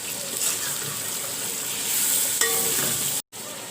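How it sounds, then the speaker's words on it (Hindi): Beef pieces sizzle and fry in a pot while a beef pulao is being made, a steady close hiss with a scrape of stirring near the end before a brief cut. "अब इसमें मैं बीफ ऐड कर रही हूँ। अब इसको 2 मिनट तक भूनूंगी।"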